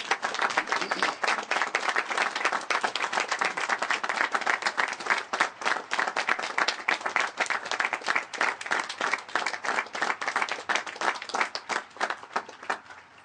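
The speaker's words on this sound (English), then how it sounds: "rise up and applaud these kids for what they have overcome to be here today" A high school graduation audience gives a sustained round of applause for the graduating students, with loud, dense clapping that holds steady for over ten seconds before beginning to thin out at the end.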